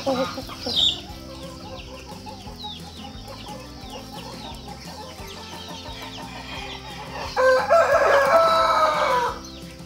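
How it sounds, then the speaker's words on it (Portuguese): A young rooster crows near a rural house under renovation in Brazil, a strained cockerel call breaking through steady background chatter and farmyard noise, loudest near the end. "eu tô apostando que esse frango aí vai ser um grande galo"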